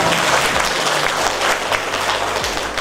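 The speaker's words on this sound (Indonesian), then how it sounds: "Ini tepuk tangan yang luar biasa." A school audience bursts into brief, loud, close applause, a dense patter of many hands with a low background hum, with no talking over it.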